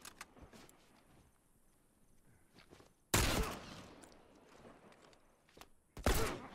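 Two loud, sharp rifle shots in a shooter video game, well apart, each a sudden close blast followed by a brief tail, over a quiet background of faint movement noises.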